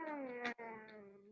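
A cat meows in a long, drawn-out, harmonic wail with a brief break midway, loud and close, with no talk over it.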